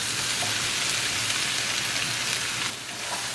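Potato and cauliflower being stirred in a frying pan over medium gas, a steady, dense sizzle like light rain running the whole time, with a slight dip near the end and no talking.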